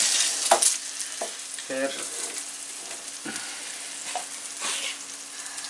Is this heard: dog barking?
no